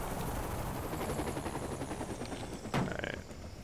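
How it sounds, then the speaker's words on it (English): A helicopter landing in Saints Row the Third, its rotor beating steadily up close with a rhythmic chop, then a sharp mechanical thud and brief rattle as it touches down. "We're gonna go ahead and land my helicopter right about here."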